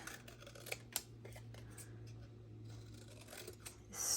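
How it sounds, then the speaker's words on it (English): Scissors snipping a paper kite shape for a craft treat box, with a few quiet cuts over a low steady hum. "we're just going to cut it out with scissors."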